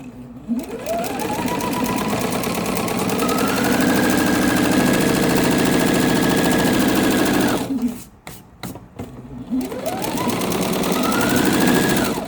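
A sewing machine stitching a quilt seam on a half square triangle runs in a loud close burst, rising to speed and holding a steady whirring rattle, pausing briefly, then starting up again.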